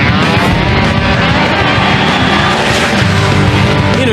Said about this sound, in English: Top fuel sand dragsters can race the length of a football field on loose terrain in under 3 seconds.